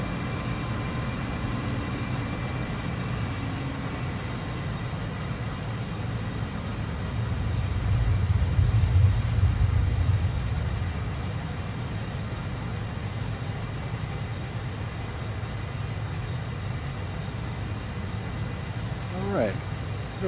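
AV-8B Harrier II jet engine in Microsoft Flight Simulator, throttled almost fully up to hover: a steady, heavy low roar that swells louder for a few seconds mid-stretch, then settles back to a constant drone.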